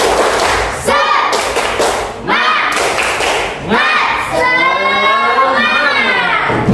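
A fourth-grade class claps together in sharp, rhythmic bursts, mixed with chanted group voices and shouting, loud and close.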